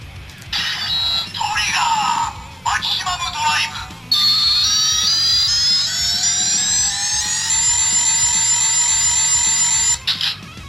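A Kamen Rider W Driver reissue toy belt's gun, with a trigger memory inserted, plays an electronic sound effect: rising, sweeping synthetic tones and buzzy chirps that run continuously and loudly, with brief gaps early on.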